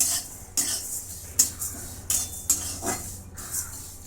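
Onion being dry-roasted with whole spices in a pan, with a handful of separate metallic scrapes and knocks of a spoon stirring it against a quiet background.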